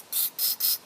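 Carb cleaner is sprayed through a whipper snipper carburetor in three short, sharp aerosol bursts of loud, close hissing separated by brief gaps.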